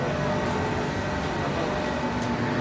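Steady rumble of a train rolling along an airport rail line in Bangkok, a continuous dense drone with faint rattles, close and unbroken throughout.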